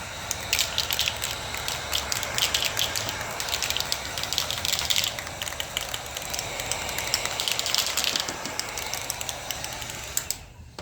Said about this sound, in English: I'm going to go ahead and shake up my rattle can